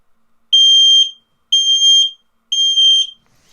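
Three shrill, loud beeps from an X-Sense WS01-WT smoke detector during an audible alarm test, evenly spaced about a second apart, with nothing else heard between them.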